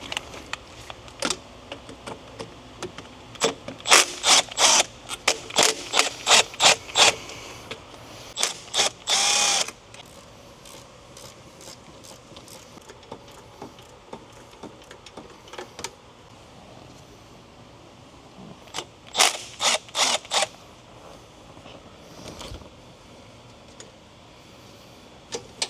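Hand tools and a ratchet work on a Twin-Turbo NSX engine to pull the alternator, giving bursts of rapid close clicking and metallic ratcheting separated by quieter pauses, with no voices.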